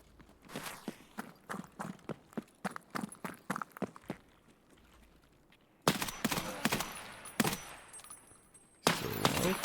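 Gunfire in the shooter game Escape from Tarkov: a run of sharp, evenly spaced shots rings out, a pause follows, then louder, denser bursts crack in close.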